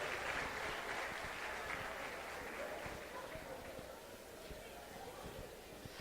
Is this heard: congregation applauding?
yes